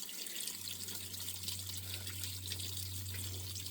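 Water flows and splashes steadily in a natural stream with a soft, continuous rush, fairly faint, under a low steady hum and with no one talking.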